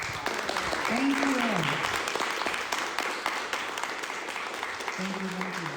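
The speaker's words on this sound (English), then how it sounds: "Well, let's give a round of applause." An audience applauds at a filmmaker's talk, with sustained, fairly loud clapping from the crowd and a couple of voices speaking briefly over it.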